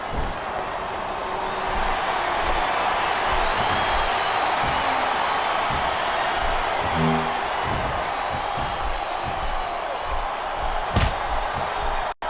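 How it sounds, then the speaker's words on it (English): A wrestling arena crowd at a WWE Hell in a Cell match roars and jeers in a constant loud wash of voices, with a few thuds and a sharp slam near the end. "I think this crowd's giving these superstars a piece of their minds"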